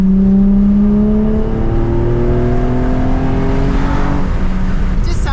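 A Nissan 350Z engine revs hard and loud above 5,000 RPM, its pitch climbing steadily to a high, screaming whine, heard up close.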